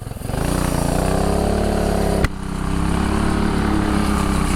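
A 420cc mini bike engine runs at full throttle, its steady loud drone rising in pitch as it accelerates, with a sharp click midway before the engine note continues climbing.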